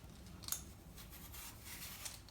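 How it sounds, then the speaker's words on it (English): Small hand peeler scraping across apples, close and quiet, with a couple of sharper cutting clicks over a soft continuous scrape and no talk. "So I'm using a little peeler here."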